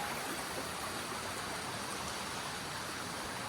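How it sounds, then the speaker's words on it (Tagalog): Clean mountain stream water flowing near a riverside campsite in Real, Quezon, a steady close broadband rush that stays even throughout with no voices. "Tapos may tubig dito galing sa bundok."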